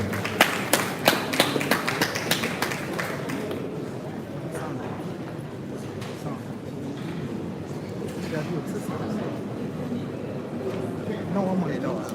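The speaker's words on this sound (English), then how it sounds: "Let's give her a round of applause." Applause from an audience at the commissioning ceremony of the Parliament of Ghana Museum: a busy crowd clapping with early sharp claps that settle into a steady, dense wash of hand claps for the full length.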